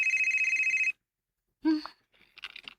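A telephone rings with an incoming call, a steady electronic trill for about a second, followed by brief rustling and handling noises.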